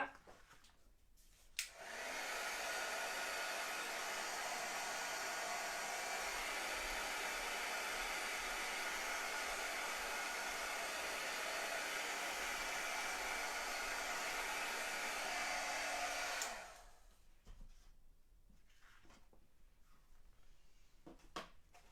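A handheld heat tool blows hot air over ink, a loud steady whooshing drone that switches on abruptly, runs for about fifteen seconds and then cuts off, with quiet handling noises before and after.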